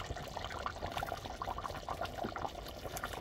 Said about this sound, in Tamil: நல்லா கொதிச்சு ஒரு சவுண்டு பாருங்க